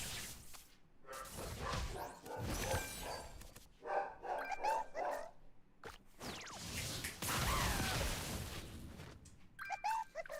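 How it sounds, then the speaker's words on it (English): Dogs in an apartment downstairs bark repeatedly through the floor, muffled and indoor, amid a busy mix of other sounds during a relaxed gaming stream. "He does not like when the dogs downstairs bark."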